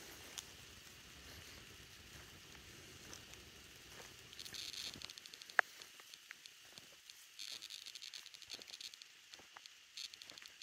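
Outdoor rain pattering on leaves, a steady fine hiss with scattered soft drops and ticks, a faint low rumble easing midway, quiet and without talk.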